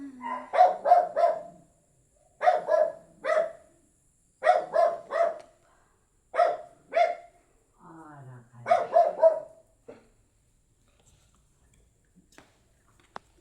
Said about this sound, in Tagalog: Yan yung matabang aso dito